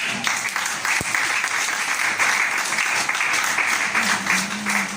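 A church congregation at a women's seminar applauds to acclaim the Lord, with steady, dense clapping filling the room and a brief thump near the start.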